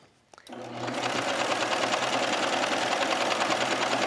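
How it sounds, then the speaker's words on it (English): A sewing machine stitching a knit elastic waistband onto an A-line skirt starts after a brief click and runs as a loud, steady, fast needle rattle. "So just stitch with your foot right on the edge of this elastic."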